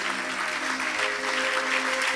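Steady applause from a church congregation fills the whole stretch, dense and even, with a faint hum of voices underneath and no clear speech.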